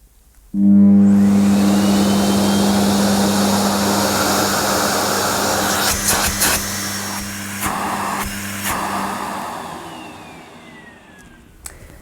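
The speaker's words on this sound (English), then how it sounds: "It's on at mains is running to the machine, so when I move this, it should turn on" A Sebo K3 Vulcano vacuum cleaner switches on abruptly and runs with a loud, steady motor drone and high whine. Its pitch rises slightly and the sound wavers with a few knocks before it gradually fades toward the end.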